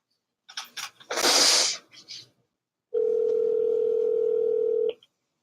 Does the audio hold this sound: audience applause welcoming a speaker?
no